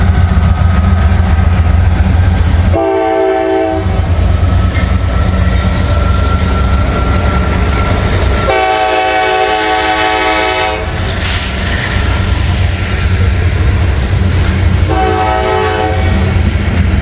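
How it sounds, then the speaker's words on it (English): A freight train, likely a grain train, rumbles and rattles loudly past at close range while its horn blows three times: a short blast, a longer one, then a final short one. "Got another train coming."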